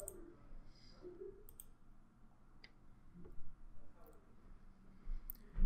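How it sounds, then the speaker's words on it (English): Faint computer mouse clicks scattered over a quiet background while a drawing is converted on a PC, a few light isolated taps spaced irregularly. "select the model region by clicking and dragging your mouse across the page"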